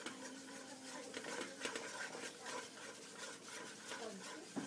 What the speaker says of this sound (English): So I'm going to continue to stir that